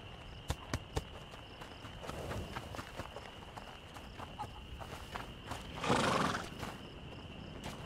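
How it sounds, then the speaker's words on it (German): Pony in the video game A Plague Tale: Innocence, with hoof clip-clops and footsteps scattered through the clip and a brief neigh-like burst near the end, moderately loud and alone. "Was machst denn du hier, kleines Pony?"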